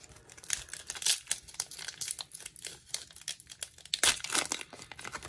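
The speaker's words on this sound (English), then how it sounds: "The ASMR of the packs opening is so satisfying." Foil Panini Donruss Optic trading card hanger packs being torn open up close, a steady run of crinkling and ripping wrapper noises with sharp bursts, no voice.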